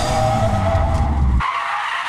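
Renault Megane 3 RS sliding through a U-turn, a loud close tire skid and squeal over engine rumble that cuts off abruptly partway through, leaving a lighter hiss, no speech.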